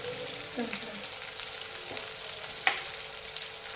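Chopped tomatoes fry in a pan with a soft, continuous sizzle and occasional light stirring scrapes, heard close up at a modest level.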